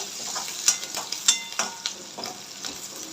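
Ginger, garlic and chopped green chillies sizzle and crackle in hot oil for chilli paneer fried rice, with irregular spattering pops and stirring scrapes close up, no talking.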